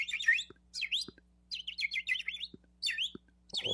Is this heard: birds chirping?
yes